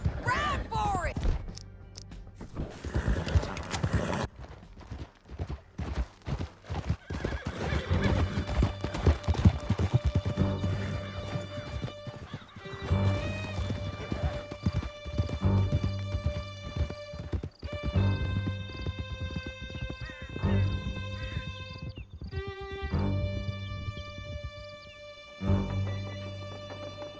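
Horses gallop with steady clip-clop hoofbeats and an occasional whinny in the Western game Red Dead Redemption 2, close and continuous over a soundtrack, with brief voices.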